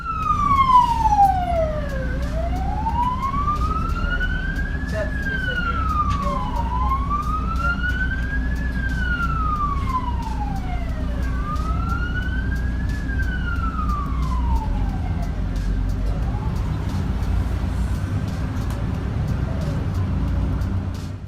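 An ambulance siren wails in Australian traffic, its rising and falling tone sweeping repeatedly over a steady engine and road rumble, loud and close before fading slightly toward the end.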